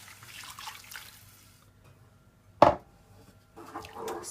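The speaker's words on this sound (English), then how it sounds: "So now I'm gonna add 1 cup of boiling water" Boiling water is poured into a gravy pan, giving soft liquid splashing with one sharp clatter in the middle before the pouring resumes.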